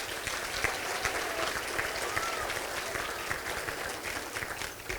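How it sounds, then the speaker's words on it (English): Dinner guests at a bank stockholder event give a warm round of applause, many hands clapping together in a steady, close, sustained burst. "Please give them a great round of applause."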